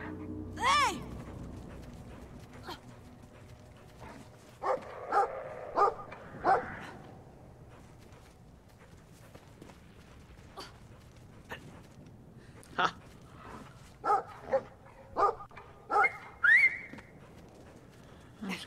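Dogs bark and yip across a field in the game Brothers: A Tale of Two Sons, with a single sharp outburst early on and then a cluster of short, repeated barks toward the end over a quiet ambient bed.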